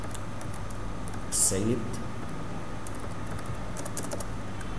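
Computer keyboard being typed on at a desk, quick light clicks scattered through the clip under someone speaking, with a faint background hum.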